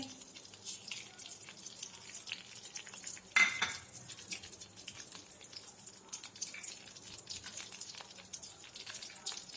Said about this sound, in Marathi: आणि आता इथं मी जिरे आणि मोहरी तेलामध्ये टाकत आहे.